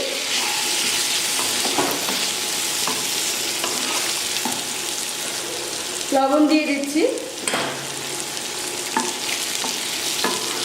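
Cubed potatoes and dried fish fry in a pan with a steady sizzling hiss, broken by scraping stirs and occasional clinks, while someone speaks briefly over the cooking midway.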